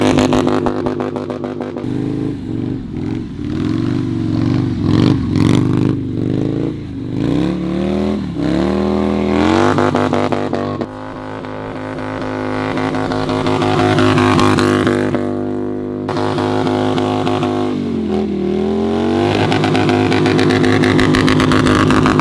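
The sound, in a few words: Vance & Hines SuperSport exhaust on 2025 Harley Lowrider S revving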